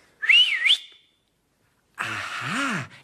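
A person gives a short, wavering whistle, then after a pause a breathy, airy attempt with a low rising-falling tone.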